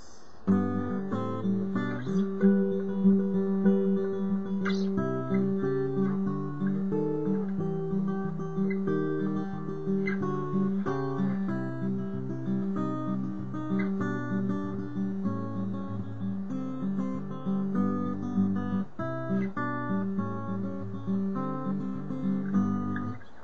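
Fingerpicked acoustic guitar plays a song in a steady flowing pattern of plucked notes over held bass tones, clear and close, with no voices.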